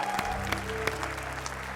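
Studio audience at an Indonesian comedy talk show applauding for a band, a short stretch of fairly faint clapping with a few sharper claps standing out.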